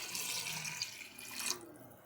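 Water, one and a half cups, pours steadily into a biryani pot of chicken and yogurt on the boil, a soft continuous splashing hiss that cuts off near the end.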